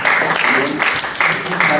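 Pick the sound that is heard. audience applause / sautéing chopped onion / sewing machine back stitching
audience applause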